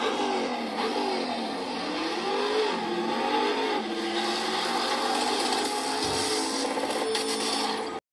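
A new Tesla Model Y electric car drives along, with a steady wash of road and tire noise and a faint whine inside the cabin, continuous and moderately loud with no talking.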